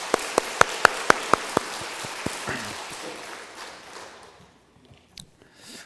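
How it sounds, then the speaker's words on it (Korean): A church congregation claps together at a Sunday worship service, a few sharp claps building into dense, loud applause that tapers off over several seconds into quiet murmuring. "살아계신 하나님께 감사의 영광의 박수 올리겠습니다"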